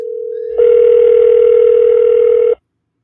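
Steady electronic ringback tone on an outgoing telephone call, loud and continuous, stepping up in level after half a second and cutting off abruptly near the end.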